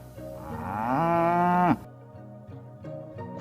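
A cow gives one long, loud, rising moo up close that cuts off sharply, followed by quieter background tones.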